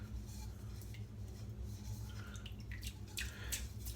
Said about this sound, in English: and then dip the brush.